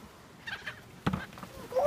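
Seagulls being fed call out in brief, harsh squawks and yelps, a few separate bursts heard up close over a low background.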